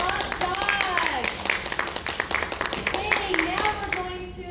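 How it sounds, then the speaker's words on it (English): Applause at an elementary school assembly honoring students: crisp claps from a crowd of children mixed with voices cheering and calling out over the clapping. "Big round of applause for our top dogs."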